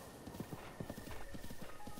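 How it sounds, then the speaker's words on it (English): A horse in Zelda: Breath of the Wild clip-clops with quick, irregular hoofbeats, faint and fairly close, with a soft neigh mixed in. "It's okay, horsey. I'm not gonna hurt you."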